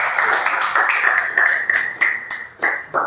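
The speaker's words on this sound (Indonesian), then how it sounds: "Oke, silakan tepuk tangan buat Mas Alvin juga." A group of students claps together in a mechanical engineering classroom, a dense, steady burst of applause lasting about three seconds with a few sharper individual claps near the end and no talking over it.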